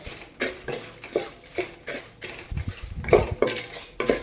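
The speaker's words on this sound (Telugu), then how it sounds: "ఇప్పుడు ఇందులోకి ఒక స్పూను సాల్ట్ యాడ్ చేస్తున్నాను. దీన్ని కూడా బాగా కలుపుకోండి." A spoon stirring salt into tamarind rice tempering in a metal pan, producing a series of close clinks and scrapes in an uneven rhythm, with a faint sizzle under them and no talk.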